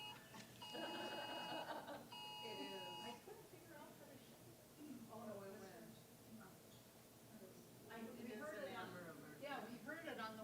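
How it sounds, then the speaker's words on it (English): An Amber Alert emergency tone sounds from a phone during a Sunday church service, a loud repeating electronic beeping pattern lasting a few seconds, followed by someone speaking over the room. "Oh, that's that Amber Alert."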